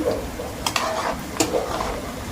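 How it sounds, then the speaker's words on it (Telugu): Onion pieces being stirred in a pan while cooking bagara rice, with a faint sizzle and a few scraping and clinking strokes of the spoon against the pan, close and moderately loud. "ఉల్లిగడ్డ ముక్కల్ని బాగా ఒకసారి కలుపుకుందాం"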